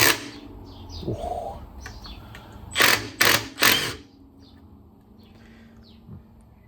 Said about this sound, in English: So what I've got here is a impact wrench. Let's see if this helps at all.